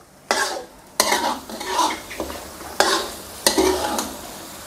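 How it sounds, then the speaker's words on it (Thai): Chicken simmering in coconut cream for Thai panang curry is stirred in a pan over medium heat, with repeated loud scraping strokes of a spoon against the pan over a low, bubbling sizzle. "ขั้นตอนนี้ให้เราใช้ไฟกลางนะครับเคี่ยวไปเรื่อยๆจนกว่าเนื้อไก่จะสุก"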